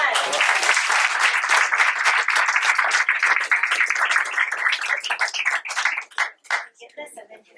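A round of applause at a school board meeting after student names are read, a full crowd clapping steadily and loudly before thinning out into scattered claps near the end.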